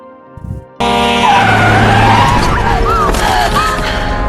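A truck nearly hits a man and child on a road, with a sudden loud burst of engine roar and screeching tyre skids sliding and wavering over a steady vehicle rumble, close and sustained.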